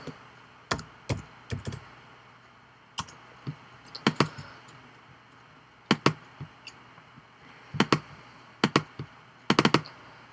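Keys on a computer keyboard click in short irregular bursts, close and fairly quiet, with pauses between clusters of typing and no speech.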